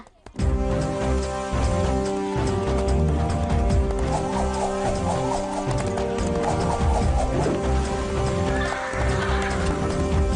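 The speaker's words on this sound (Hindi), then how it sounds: "जल्दी कुछ करना होगा, वरना ये घोड़ा सारे बाजार को मैदान बना देगा।" A horse charging through a busy market, with rapid clip-clopping hooves and repeated loud neighs and whinnies, close and chaotic over layered background commotion.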